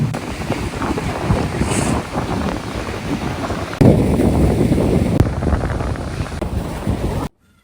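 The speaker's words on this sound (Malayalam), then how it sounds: "ഇവിടെ നല്ല വീശിയടിക്കുന്ന കാറ്റുണ്ട് ആ കാറ്റ് കൊള്ളാനും അതിൻ്റെ ശബ്ദം കേൾക്കാനൊക്കെ നല്ല ഫീലാണ്" Strong seaside wind buffets the microphone in a steady roar, with a surging, open outdoor noise like surf beneath it, loud and continuous before cutting off abruptly.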